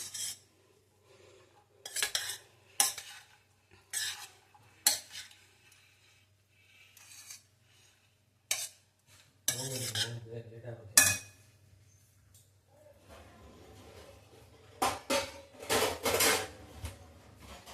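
Spoon scraping and clinking against a pan or bowl as leftover rice is mixed with tempering and half a lemon's juice, a series of short sharp clatters with quiet pauses, a few heavier scrapes near the end.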